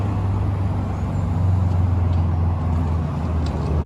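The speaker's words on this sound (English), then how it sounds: "Like this is like a main busy street. It's just too noisy and too loud." Busy main street traffic, a steady loud roar of passing cars, buses and trucks with a low engine hum throughout and occasional faint hisses, no voices.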